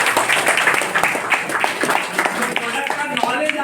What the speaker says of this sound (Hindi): हमारे छतपाल साहब जी के लिए एक जोरदार ताली हो जानी चाहिए।